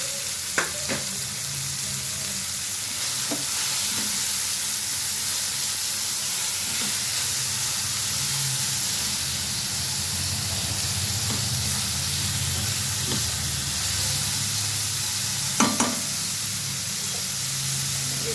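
Tomatoes roasting in a pan with a pinch of salt give a steady, close sizzle and hiss throughout, broken by a few faint stirring clicks and light scrapes.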